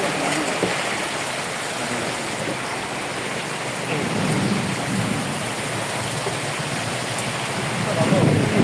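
Heavy rain pours steadily in Khulna as a dense, continuous hiss of drops on surfaces, with a low rumble of thunder swelling near the end; a voice speaks faintly underneath.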